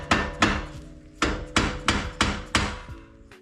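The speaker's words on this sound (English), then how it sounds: "Now I got a little rubber mallet." A small rubber mallet strikes a brake caliper on a BMW M3 seven times in quick, uneven succession, each blow a close, solid knock with a short ringing tail.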